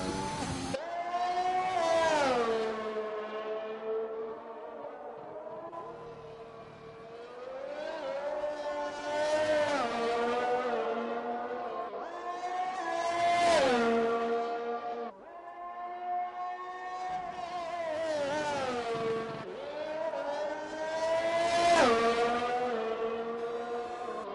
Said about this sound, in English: we watch the AI car of Rogue Smithy just continue out on track.